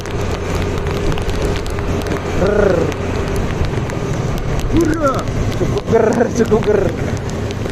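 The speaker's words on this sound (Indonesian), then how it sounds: "Hujan kawan, hujan." Heavy rain pours during a ride through traffic, forming a steady, dense hiss that runs the whole time beneath intermittent speech.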